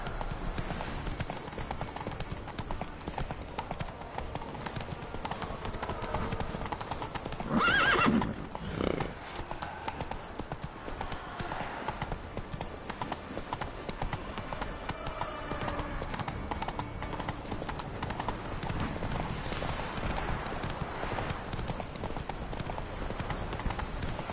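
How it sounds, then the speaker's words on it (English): Horse hooves clip-clopping at a steady galloping pace in The Witcher 3 game, with a horse whinny near the eighth second and continuous game sound and music underneath. "Run, Roach."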